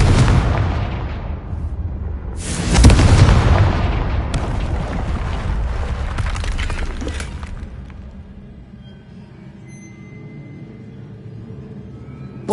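A Confringo spell cast in Hogwarts Legacy bursts into a loud fiery blast, with a second heavy boom about two seconds later and a long crackling, rumbling decay that fades into a low ambient hum.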